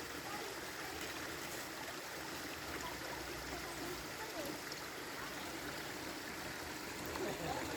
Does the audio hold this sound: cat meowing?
no